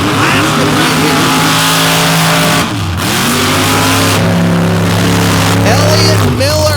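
A race vehicle blasts across a sloppy swamp track at a Naples swamp racing event, its engine roaring loud and close with rising revs and brief throttle lifts, as a commentator talks over it.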